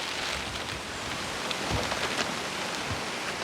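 Steady rain falls outdoors around a cottage, a dense even hiss of drops on surfaces that continues without a break, close and fairly loud.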